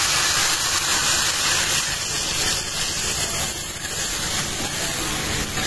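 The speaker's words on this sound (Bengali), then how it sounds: "এখন আমি একটু পানি দিয়ে কষাবো" Water is poured onto dried surma fish frying in oil in a pan in Cox's Bazar, a steady loud hiss and sizzle that holds unbroken throughout, with no talking.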